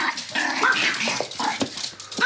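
A Pomeranian puppy growls and yips in short, close bursts, with a thin whimpering edge between the growls.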